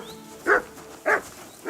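A dog barks in the medieval world of Kingdom Come Deliverance II: three single, evenly spaced barks at moderate distance over a quiet ambient backdrop.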